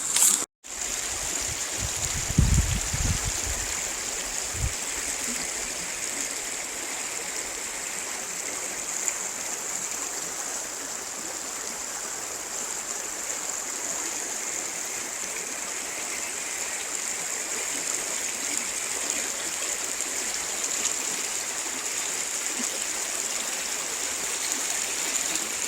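A creek flows beneath an abandoned 1875 Ma & Pa Railroad trestle, a steady close rushing wash of water that lasts throughout, with a few low thumps near the start and no voices.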